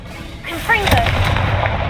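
Confringo blasting spell explosion in the video game Hogwarts Legacy: a single booming burst with a crackling tail and a rising whoosh, loud and close, following a brief spoken spell call.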